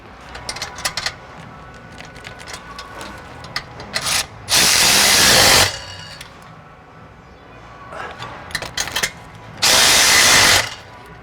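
A 13 mm nut and bolt on the exhaust brackets of a 2018-on Maserati Levante V8 are tightened with a power tool, giving two loud, close bursts of whirring among lighter metallic taps and rubbing.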